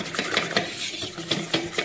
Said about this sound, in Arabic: صافي كنخلطوهم مزيان